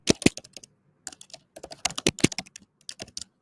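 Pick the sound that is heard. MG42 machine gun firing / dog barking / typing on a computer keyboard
typing on a computer keyboard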